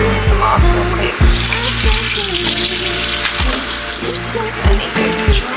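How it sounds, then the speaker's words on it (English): Tap water running over cut green beans in a kitchen sink, a continuous splashing gush with clattering knocks and shifting bursts throughout, fairly close and without speech. "I'm gonna rinse them off real quick."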